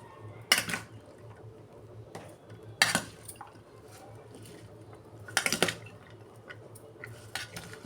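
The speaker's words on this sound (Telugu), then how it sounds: "అన్నీ వేసుకున్నాం కదండి, ఇప్పుడు కలుపుకోవాలి." A spoon mixes sweet corn masala in a bowl, with a few sharp, separate clinks and scrapes of metal against the dish over a quiet background and no talking.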